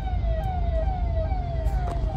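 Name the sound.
fire engine siren stuck in traffic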